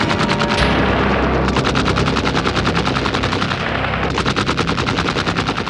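A German MG-42 machine gun fires on a WWII Normandy battlefield in 1944, sustained rapid bursts, loud and close, with a dense continuous rattle and no speech.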